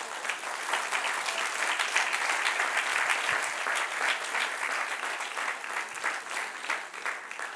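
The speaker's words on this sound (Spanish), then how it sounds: "Denle un aplauso al Señor." A church congregation clapping together in praise, a steady crackle of many hands heard from within the room, moderately loud and unbroken throughout.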